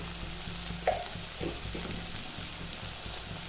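Onions sauté in a pan with turmeric, giving a faint, steady sizzle with a soft clink and a few light stirring touches.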